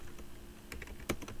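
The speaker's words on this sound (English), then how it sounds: "I used backspace where I was typing the wrong characters" Quiet computer keyboard typing: a few soft, irregular key clicks with one sharper press, faint over low background hum.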